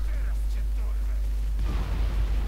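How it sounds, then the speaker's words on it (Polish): An explosion in water in the video game Far Cry erupts about two-thirds of the way in as a loud, broad burst with splashing debris, following a low, steady hum. "Bardzo efektowna eksplozja w wodzie"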